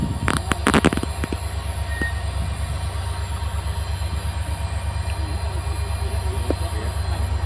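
A train rolls slowly into a station near Dibrugarh, with a steady low rumble, repeated wheel clacks and a brief metallic squeal early on, close and continuous.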